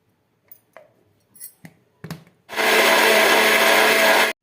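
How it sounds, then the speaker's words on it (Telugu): A mixie grinder whirs loudly and continuously for about two seconds, grinding masala with coriander powder, turmeric and water for a chicken curry, after a few brief knocks and clatters as the jar is set up. "నీళ్ళు వేసుకొని మిక్సీకి వేసుకునేద్దాం."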